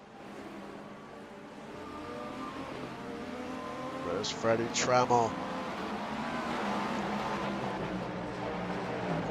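Race cars in the iRacing sim game pull out of pit road at World Wide Technology Raceway in an ESL GTP event, a steady engine drone with a brief louder pass midway, under continuous commentary.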